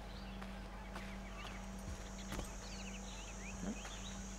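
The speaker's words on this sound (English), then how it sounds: "There's the horse." Horse hooves clip-clopping in the video game Assassin's Creed 3: sparse, moderately close hoof clops with birdsong and a steady ambient hum behind them, and no talking.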